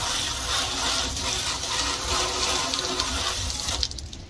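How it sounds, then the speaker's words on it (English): Water from a hose sprays steadily to rinse dirt off chicken coop windows, a loud continuous close gushing spray that cuts off near the end. "So I'm just going to do a quick rinse"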